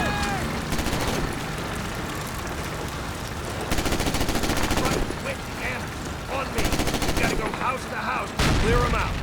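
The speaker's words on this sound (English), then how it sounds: "Definitely on way to sort out a machine gun nest." Call of Duty battlefield with sustained machine gun fire: dense, loud rapid bursts roll almost continuously, swelling in intensity at intervals amid surrounding combat noise.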